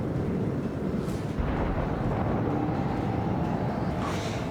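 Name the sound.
torpedoes hitting pirate ship in video game Rogue Trader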